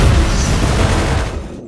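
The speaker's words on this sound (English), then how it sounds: "Ooh, nice explosion." A loud, rumbling explosion with a deep low-end roar that fills the clip, then fades out near the end.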